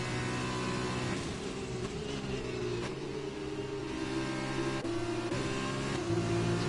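Racing cars in the F1 2020 video game during an F2 race at the short Britain circuit: a continuous whining engine drone with steady tonal harmonics, shifting pitch slightly as cars run close together, with no commentary.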